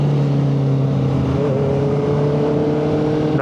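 A 2025 Honda CBR650R motorcycle engine hums steadily at high revs, a loud close drone with a pitch that shifts slightly midway, no voices.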